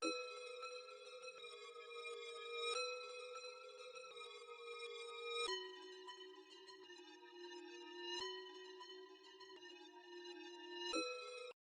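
A basic melody built from a one-shot kit for dark ambient R&B, bright bell-like tones changing pitch every few seconds in a slow, regular pattern, each note sustained with a gentle swell, quiet and unaccompanied by talk.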